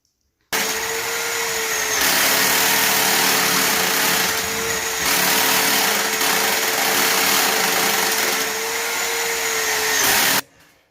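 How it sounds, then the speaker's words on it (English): Power drill boring a 4-inch fan hole with a hole saw in a house, a steady high whine with grinding, running nearly continuously for about ten seconds with slight pitch dips, close and loud, then stopping abruptly. "Just been drilling this"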